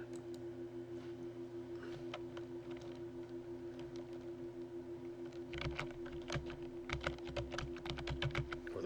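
Computer keyboard typing in an Excel comments pane, a run of close, light key clicks that thickens into a quicker burst near the end over a steady electrical hum.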